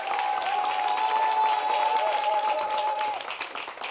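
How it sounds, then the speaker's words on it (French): Audience applause greets an arriving guest on a talk show, a steady wash of clapping that holds for about three seconds and then thins out. "Monsieur Jean-Louis Lobé, qu'on applaudit très fort"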